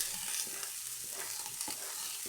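Zucchini fries in a pan with a steady hiss of sizzling oil, close and continuous, broken by a few soft scrapes and taps as pepper goes in and the pieces are moved around.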